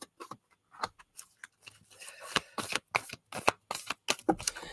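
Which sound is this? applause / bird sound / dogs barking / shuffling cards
shuffling cards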